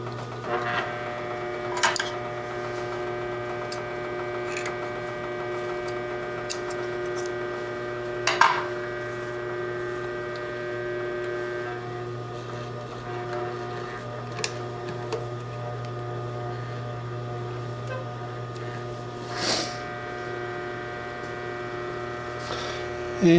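Singer 20U53 industrial sewing machine stitching with balanced thread tension and decreasing stitch length, a steady mechanical hum with faint ticking and a few sharp clacks over about twenty seconds, no voices.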